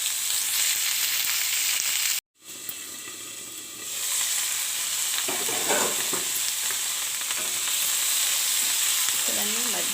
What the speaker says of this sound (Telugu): తర్వాత టమాటా ముక్కలు వేసుకుందామండి. ఇక్కడ ఒక్కసారి వేపుదాం లైట్గా.